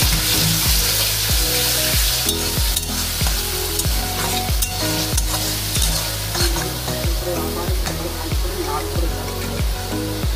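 Onion, ginger and garlic paste sautéing in oil in a pan for banana flower with prawns makes a loud, continuous sizzle, with regular rhythmic scraping strokes from stirring throughout.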